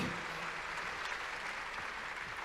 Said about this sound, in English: On va applaudir Rutger et les intervieweurs, Julien, Emeric.